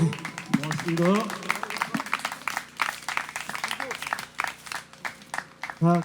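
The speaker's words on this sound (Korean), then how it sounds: "차까지 준비해서 함께 해주신 장현대님께 다시 한번 큰 박수 부탁드립니다." An audience at a peace declaration gathering in Gyeongju applauds as a host speaks over the clapping, with the scattered handclaps rising and fading beneath the talk.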